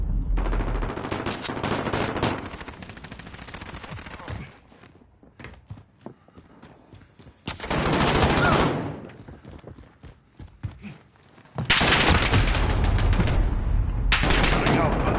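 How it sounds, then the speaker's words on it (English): Bursts of automatic gunfire in Modern Warfare (2019) Domination gameplay, loud sustained volleys separated by quieter gaps with footsteps and scattered shots. "Taking fire!"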